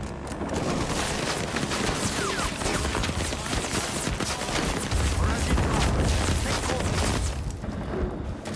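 Dense, continuous battlefield gunfire in Rising Storm 2, sustained rifle and machine-gun fusillades with heavy booms layered throughout, loud and unbroken for the whole stretch.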